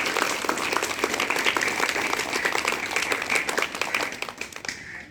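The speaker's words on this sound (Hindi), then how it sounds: "जोरदार तालियां उस बच्ची के लिए।" An audience at a yoga awareness event claps loudly for a girl, a dense steady round of applause lasting several seconds before tapering off.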